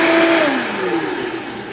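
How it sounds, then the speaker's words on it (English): A blender whirs loudly at close range while mixing vegan sour cream ingredients, its motor pitch sliding down slightly as the load settles, running alone without any voices. "So everything is in the blender, and then we're going to turn it on."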